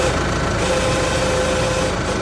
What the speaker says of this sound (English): You can only hear the motor with the engine